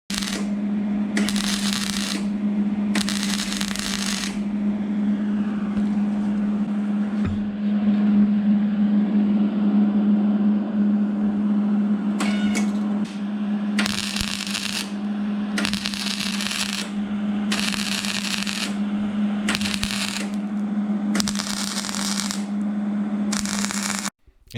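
MIG stitch welding along the rocker panel of a Mercury Sable station wagon, a series of crackling buzzing bursts separated by short pauses over a steady background hum.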